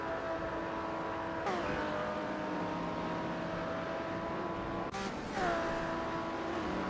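Vintage supercars driven by AI race around Spa in a racing video game, with a continuous droning engine note and sharp gear-change shifts at intervals, heard alone without talk.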